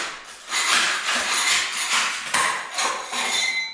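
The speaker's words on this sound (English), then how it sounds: "let's you can see all these little loose bits here. So what I do, I'll just have to scrape all into a pile" Loose bits of asbestos floor tile are scraped across a floor into a pile, several rough gritty scraping strokes with clattering fragments, close and fairly loud, with no talking.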